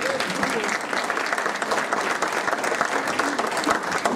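Audience applause at a lecture held at a history museum, dense, continuous clapping from a sizeable crowd filling the room at a steady, fairly loud level.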